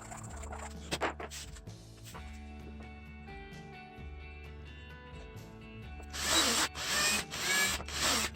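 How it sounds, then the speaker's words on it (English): A drill press runs with a steady motor hum and tonal whine, then bites into metal to drill out a punched indent, finishing with a louder burst of cutting noise. The sound is close and there is no talk. "which I can then drill out on the drill press."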